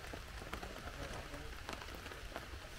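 Heavy rain falling on a hammock camp in Wales, a dense, steady patter of drops hitting the shelter close by, with occasional sharper taps standing out from the constant hiss.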